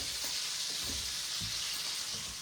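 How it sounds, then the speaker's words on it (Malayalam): Food deep frying in hot oil gives a steady, close sizzle and hiss with occasional soft bubbling pops, continuous and fairly quiet, with no talking. "ഇപ്പൊ ഞാൻ ആക്ച്വലി ഇത് കംപ്ലീറ്റ് ഡീപ് ഫ്രൈ ചെയ്യുന്ന ഒരു അവസ്ഥയ്ക്ക് എത്തിയിട്ടുണ്ട്"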